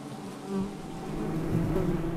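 Honey bees in a hive of about five thousand, active again after winter, hum in a steady, dense, close drone that swells slightly over a couple of seconds.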